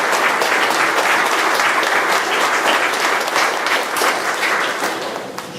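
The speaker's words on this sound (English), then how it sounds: "Let's give the legislature a round of applause for their support." Sustained applause from a large crowd at a state park dedication, loud and steady throughout, tapering slightly toward the end.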